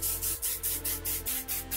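A hairdresser's aerosol hair spray hisses in a run of short bursts, about seven or eight quick puffs in a steady rhythm, close and fairly loud, with a low hum underneath.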